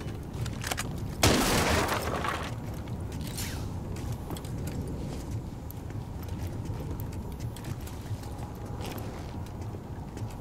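A magazine reload in Rainbow Six Siege on the Bartlett University map: mechanical clicks and creaks, a loud burst early on, then quieter steady game noise.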